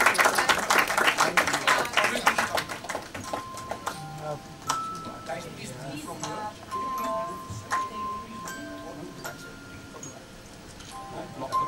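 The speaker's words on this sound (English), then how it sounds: "A big round of applause as we celebrate Farokh sir's birthday" Crowd of guests at a celebrity birthday felicitation for Farokh breaks into dense applause that is loudest at the start, then thins out under ongoing talk and scattered clicks.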